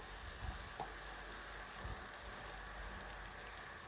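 Ground garlic sautés in a pan with a soft, steady sizzle and crackle, low in level and continuous, with no talking.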